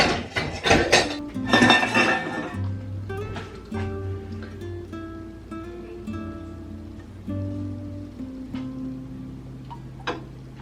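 Saucepan and metal kitchenware pulled out and handled, with a cluster of clanks and clatter up front, then ringing metallic tones fading under lighter clinks.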